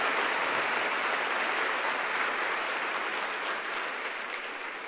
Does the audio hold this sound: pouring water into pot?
no